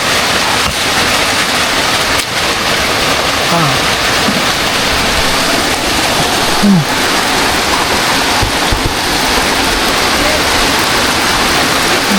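Steady, dense downpour in Batangas roaring continuously, loud and close, with no breaks for the whole stretch.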